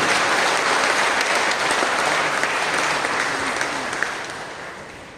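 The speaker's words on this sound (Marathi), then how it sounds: "जोरात टाळ्या वाजवून आपण पवित्र आत्म्याला धन्यवाद देऊ." Loud, sustained applause from a church congregation thanking the Holy Spirit, a dense wash of clapping that holds steady and then tapers off slightly near the end.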